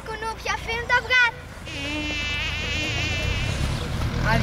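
Mosquitoes buzz in a sustained, close, whining drone with wavering pitch, following a few short tonal squeaks at the start.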